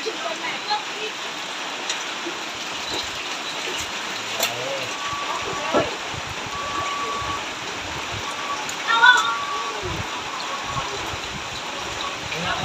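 Steady rain falls outdoors in a garden, a dense even hiss of drops with occasional heavier patters, continuous and fairly close throughout.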